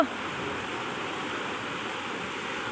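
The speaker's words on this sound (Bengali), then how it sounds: "জলের আওয়াজ দেখেছো" River water flowing through Yumthang Valley, a soft, even rushing murmur that stays constant throughout without any voices.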